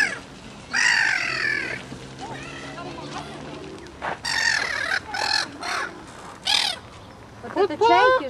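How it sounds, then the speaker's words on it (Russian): Seagulls call and cry outdoors, their harsh squawks coming in separate bursts at moderate distance while people talk nearby. "И чайки тут повсюду."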